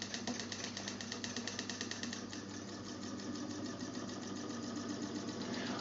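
A small DC motor spins with a fast, even whirring buzz, close and fairly quiet, its tone shifting slightly partway through as it keeps running steadily.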